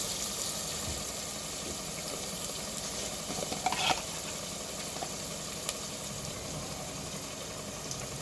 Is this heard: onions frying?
yes